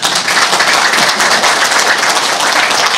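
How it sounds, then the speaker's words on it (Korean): Loud, dense applause from an audience at a lecture event in Los Angeles, a continuous close-up roar of clapping hands with no talk over it. "이 박수 좀 쳐주세요."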